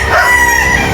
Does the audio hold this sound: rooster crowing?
yes